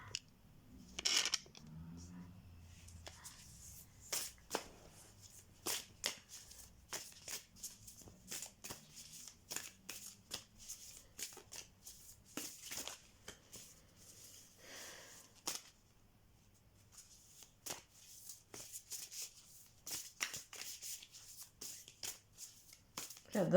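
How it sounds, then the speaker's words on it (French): Oracle cards are shuffled by hand at close range, with repeated quick riffling and flicking bursts and soft slaps, fairly quiet and without talk. "J'adore battre les cartes. J'adore faire ça."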